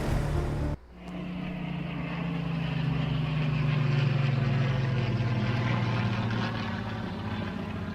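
FW190 fighter plane engine from a video game sound mod, a droning propeller engine roar that starts after a short cut and holds steady, loud and continuous with a low hum throughout.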